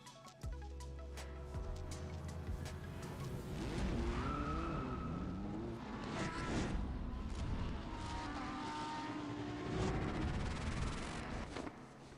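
A Lamborghini is driven hard in motorsport. A sustained engine roar shifts up and down through gears with tire squeal and skidding, loud and continuous throughout.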